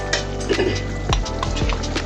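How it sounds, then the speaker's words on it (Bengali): Boiled green peas being stirred in a frying pan over a medium flame, with a steady sizzle and several distinct scraping strokes of a spatula against the pan, close and alone. "চুলার আগুনটা কিন্তু মিডিয়াম করে রেখেছি, আমি নেড়ে চেড়ে দিচ্ছি।"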